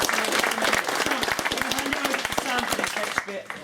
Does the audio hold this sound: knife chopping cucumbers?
no